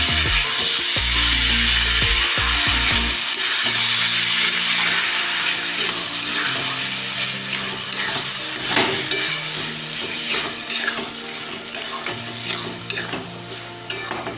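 Amla pickle being stirred with sugar in a pan, a steady scraping and bubbling stir that runs throughout at close range, with low knocks of the spoon early on and no talk.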